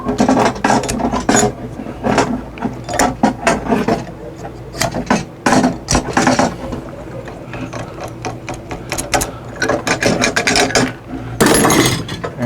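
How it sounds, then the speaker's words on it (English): A flaring tool is screwed down onto copper LP gas tubing, giving repeated ratcheting metal clicks and grinding turns in uneven bursts, close and fairly loud, with some short pauses between. "We just made a flare in a piece of copper tubing."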